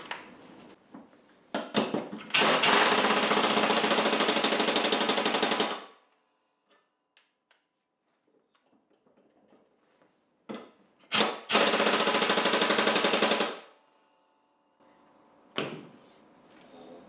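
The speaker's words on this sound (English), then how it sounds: "My air hammer puts on bolts and nuts at," Two long bursts of a rapid, rattling air hammer tightening bolts on a John Deere D140 lawn tractor mowing deck blade, separated by a quiet gap with faint clinks and handling noises.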